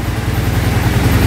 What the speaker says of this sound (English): Alright, we got the airbox back on. Now it's idling. Sounds pretty good.